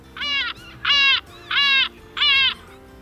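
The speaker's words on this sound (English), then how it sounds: "Seagull squawks." A seagull squawks four times in a steady rhythm, each call a loud, nasal, strongly pitched squawk close by with short gaps between.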